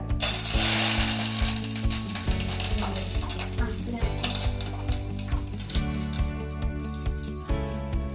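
Curry leaves sizzle in hot coconut oil with a loud hissing burst at first that settles into a steady crackling fry, with faint clicks running underneath.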